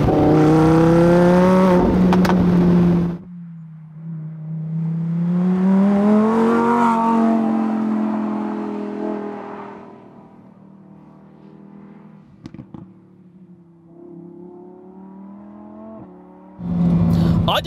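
A Lamborghini Huracan EVO RWD's V10 engine revs loudly in Sport mode, its pitch climbing and falling through bursts, dropping to a quieter whir before roaring up again at the end.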